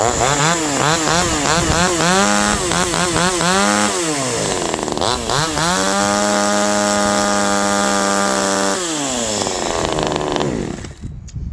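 A JonCutter G2500 top-handle chainsaw engine runs loud and close, its two-stroke whine rising and falling with throttle blips before settling into a steady high rev and then cutting off at the end.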